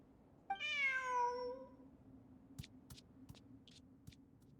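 A cat meows once in the Genshin Impact video game, a long, clear, close cry with a falling pitch, followed by a few faint, sparse clicks over a low steady hum.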